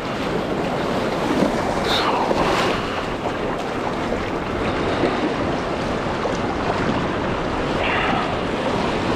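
Ocean waves and surf wash around a small boat at Snapper Rocks, a continuous loud roar of broken water mixed with heavy wind buffeting the microphone, no talk.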